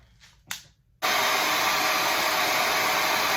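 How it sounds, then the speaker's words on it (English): After a brief faint click, a hair dryer blowing over a wig switches on and roars steadily at close range, a loud continuous blowing whoosh. "So I'm just gonna take my blow dryer."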